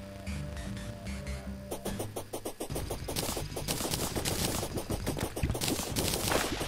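Pirate gunmen firing guns during a pirate invasion in Terraria, a rapid crackling barrage of shots that starts after a brief lull and builds into dense, continuous gunfire.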